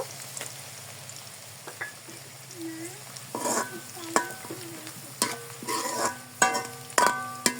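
Onion and garam masala frying in ghee for chicken korma, with a soft sizzle under repeated stirring scrapes and clinks of a spoon against the pan, close by.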